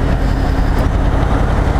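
A Harley-Davidson Breakout 114 motorcycle runs while being ridden, its big V-twin giving a loud, low, steady rumble close by with wind noise and no voices.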